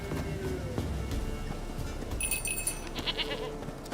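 A goat bleats in The Witcher 3, a couple of nasal bleats over faint background ambience, with a bright metallic jingle like a bell briefly ringing in the second half.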